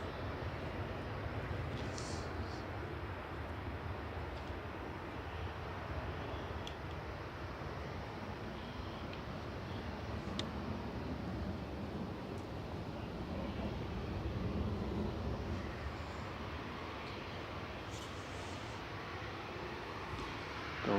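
An airliner arriving from Funchal lands at Manchester Airport, a steady broad roar of jet noise held at moderate distance throughout, swelling slightly near the middle and end, with no talk over it.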